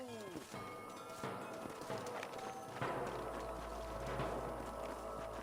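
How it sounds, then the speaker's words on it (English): Horses in the Red Dead Redemption video game clop and shuffle in the foreground, their hooves mixed with game ambience and a low rumble that swells midway, while voices carry on behind. "leave the horses here and follow me"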